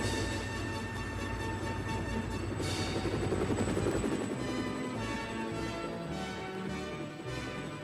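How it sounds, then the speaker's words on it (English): A helicopter's rotors thrum steadily and loudly, a constant whirring roar with a high engine whine that persists without a break. "There, ready for action, was Harold the helicopter."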